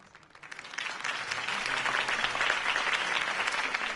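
Applause from a crowd in the video game Batman: The Telltale Series rises quickly from quiet and swells into a full, steady roar of clapping that continues throughout.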